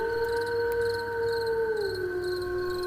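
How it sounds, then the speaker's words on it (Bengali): A jackal howls far off across a silent graveyard at night: one long, steady, wavering tone that holds evenly, then dips slightly in pitch near the end, alone with no talk. "আর দূর থেকে শিয়ালের ডাক ভেসে আসছে"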